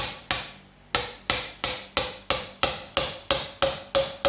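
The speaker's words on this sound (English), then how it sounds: "we're going to take our hammer and drive it home" A hammer drives a part home onto the clutch of a John Deere A tractor, landing about a dozen sharp metallic blows in a steady rhythm, loud and close with ringing decay after each strike.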